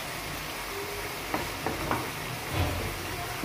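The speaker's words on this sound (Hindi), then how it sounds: "मसाले की अच्छी तरह भुनाई कर लेंगे" Spices for chicken karahi sizzle and fry in a pan, a steady low crackle with a few brief stirring clatters near the end and no voices.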